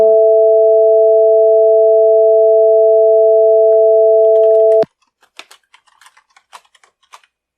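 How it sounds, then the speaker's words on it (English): Two pure electronic tones sound together as one steady, loud combined signal for nearly five seconds, then cut off abruptly. Faint, scattered keyboard clicks follow. "the combined signal, which with a trained ear you may recognize as being the two tones played simultaneously"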